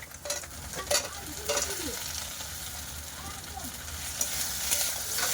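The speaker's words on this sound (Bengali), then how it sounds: "মশলার সাথে কিন্তু আমি কাঁকড়াগুলো আবারও দিয়ে দেব দিয়ে কিন্তু আরেকটু কষাই করে নেব" Pond-caught crabs fry with masala in a pan, a continuous close sizzle broken by several sharp spatula scrapes and knocks against the metal, with no voice over it.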